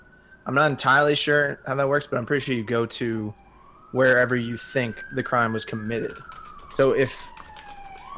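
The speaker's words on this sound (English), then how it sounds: "sorry for the sirens" A police siren wails outside as vehicles pass, a rising and falling tone running under steady close conversational speech for most of the stretch.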